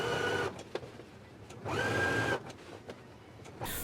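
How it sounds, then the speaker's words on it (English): A sewing machine stitches a hem on the facing of a utility jacket, giving two short, steady whirring runs close by with quiet gaps between them. "I'm going to stitch 1 1/4 inches of a hem up right here, only on the facing"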